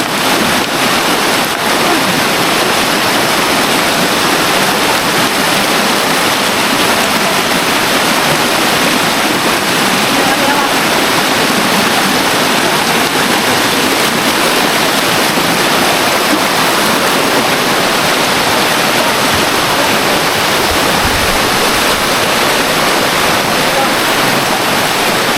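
Strong floodwater rushes past in a loud, continuous roar with a broadband hiss that never lets up, and a little wind buffets the microphone.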